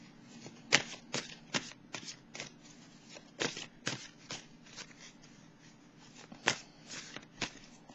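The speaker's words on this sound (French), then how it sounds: "Je vais piger une carte." Tarot cards shuffled and drawn close up, with a quiet run of crisp riffles and snaps at irregular intervals.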